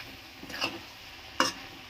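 Two brief scraping stirs of greens and vadi in a pan, separated by a short pause, soft and close over a faint sizzling background, with no voices.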